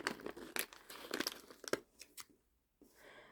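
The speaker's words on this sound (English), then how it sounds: "This pack does not want to open." A foil pack of Jurassic World Dominion trading cards is torn open, with close crinkling and tearing in quick bursts before a short pause and a soft rustle.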